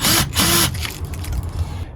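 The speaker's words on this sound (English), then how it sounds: "I'm just gonna drill now into the stucco" A power drill boring pilot holes into exterior stucco while installing a Eufy C30 video doorbell, two close, loud bursts of whining motor followed by a lower continuing grind as the bit works into the wall.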